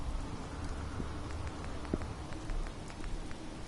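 Rain falling in the video game Fallout 4, a steady, even hiss of rainfall with scattered faint drip ticks, continuous and moderately quiet throughout with no talking.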